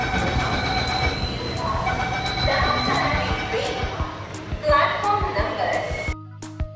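Mumbai's underground Aqua Line metro train sounds at a station platform, with a steady rumble and hum, brief high squeals and rattles, then a sudden drop as the train noise cuts out near the end, while people talk over it.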